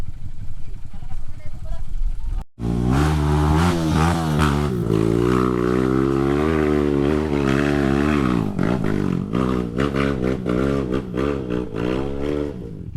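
Loud Suzuki DR-Z motorcycle engine straining and revving hard uphill on an enduro farm trail for over ten seconds, its pitch wavering as it labors, after a brief rumble and a sudden cut.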